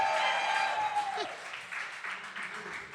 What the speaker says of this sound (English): y'all start cheering for him getting a shirt